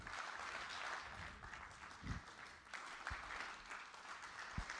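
An audience claps and applauds steadily through the whole stretch, a dense, roomy wash of hands at a conference keynote, with a few sharper isolated claps standing out.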